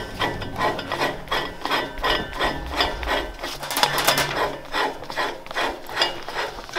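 Cap being spun onto a barbed wire roll holder, giving a steady series of rhythmic ratcheting, rasping scrapes about twice a second, close and moderately loud, with no talking.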